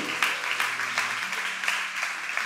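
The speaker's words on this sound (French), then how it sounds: "Applaudissez le Seigneur." A church congregation claps together in a steady rhythm, a roughly regular beat of hand claps with a faint sustained tone underneath, moderately loud and with no talking.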